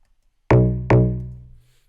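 Two deep, punchy layered Amapiano log drum hits programmed in FL Studio, the second ringing out and decaying with a booming low tone, alone and close.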